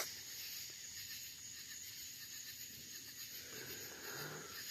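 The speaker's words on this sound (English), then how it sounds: "the only thing that's exciting at night is hearing the sounds of crickets chirping." A dense, continuous high-pitched drone of crickets at night fills the air, steady and unbroken, with soft hiss underneath and no voices.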